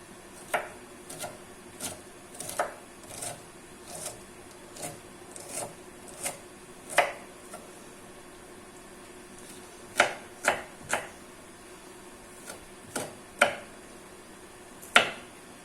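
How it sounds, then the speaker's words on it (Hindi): A knife finely chopping a medium onion on a board, quiet irregular taps in small clusters with pauses between, close and faint, without talk. "एक दरमियानी प्याज को मैंने चॉप कर लिया है।"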